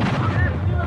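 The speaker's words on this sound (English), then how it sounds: "And the cannon fire starts again." Cannon fire booms across the Takeshi's Castle game show course, a dense run of low, rumbling blasts filling the whole second at steady loudness.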